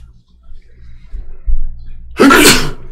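A single loud, close sneeze bursts out near the end after a stretch of quiet low rumble and a couple of soft thumps, during a board game session.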